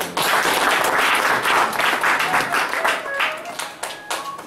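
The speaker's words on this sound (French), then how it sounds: "Acclamation pour le Seigneur" Congregation applauding and clapping in praise at a French-language church service, a dense sustained wash of many hands that stays fairly loud and steady for several seconds.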